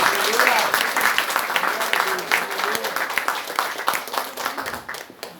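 A church congregation at a tenth-anniversary service applauds to welcome a guest, a thick, continuous clatter of many hands with a voice speaking over it, slowly easing in level toward the end.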